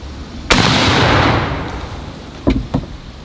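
An Enfield Snider Mark II rifle fires a single loud, sharp shot with a long, decaying echo, followed by two short clicks or knocks near the end.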